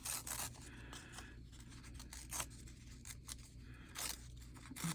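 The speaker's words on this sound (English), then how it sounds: "And then I'll tear another piece." Paper being torn by hand for a steampunk junk journal collage, a series of short, dry rasping rips and rustles, close and fairly quiet, with no talking.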